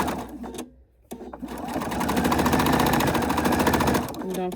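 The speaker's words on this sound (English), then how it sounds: "I put a feeder piece of fabric in there just to help continue on with my stitching." A sewing machine stitches fabric with a feeder piece, its needle running in a fast, steady mechanical chatter after a brief pause, loud and close.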